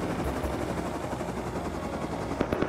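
A helicopter in a multiplayer survival shooter drones with a steady, rapid rotor chop close by, and a few sharp bursts stand out near the end.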